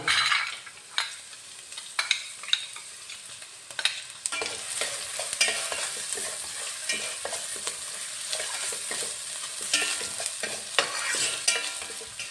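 Shallots fry in hot oil in a pan with a continuous soft sizzle, broken by scraping clicks of a spoon as they are stirred. The sounds are close but fairly quiet.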